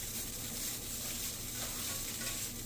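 Shredded tofu warms in a pan, producing a faint, even sizzle that holds steady throughout without any voices.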